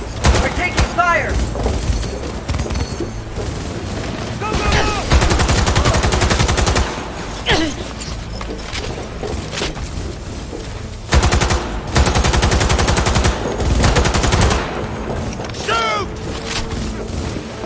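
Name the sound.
gunfire from a video game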